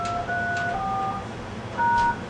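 Telephone keypad DTMF tones entering a voicemail password on an Asterisk phone system: a few short two-note beeps spaced over about two seconds, clear and steady over a faint background hiss.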